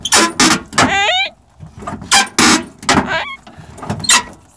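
Power seat motor running in a junkyard 1970s-era Ford car, heard as a rising mechanical whine amid loud clunks and thumps from the car's interior, close and prominent.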